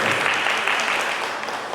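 Audience applause at an anniversary event of a music arts group, a dense, continuous burst of clapping from a crowd, close and loud throughout.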